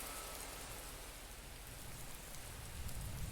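Steady rain falls outside an underground den, a broad, even hiss of drops on the ground that holds at a fairly quiet level for a few seconds with no voices.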